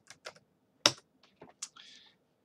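Scattered keystrokes on a computer keyboard, a handful of separate clicks spaced unevenly and then a short quick burst, close and fairly quiet with no talking.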